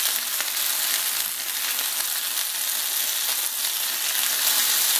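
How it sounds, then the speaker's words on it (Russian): Potatoes fry in a pan set on an electric stove hotplate, giving a steady, even crackling sizzle throughout, close and alone, with no talking. "Вот моя картошечка уже начала подрумяниваться."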